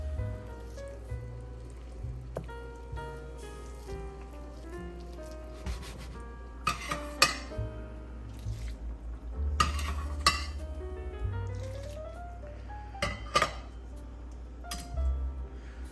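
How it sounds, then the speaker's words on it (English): A spoon scrapes and clinks steadily through creamy wild mushroom risotto in a pan. Soft sizzling runs under the close, irregular stirring knocks, with background music throughout. "continually stirring the risotto and incorporating all those flavors and creating a creamy, creamy, creamy, delicious rice"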